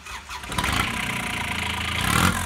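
A relatively stock 670cc Predator engine in a Renault cranks and catches, then settles into a loud, steady running rumble close by.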